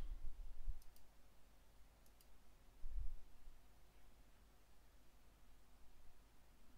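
Quiet computer mouse clicks during database setup in a web application: a few soft, isolated clicks in near silence with faint background hiss.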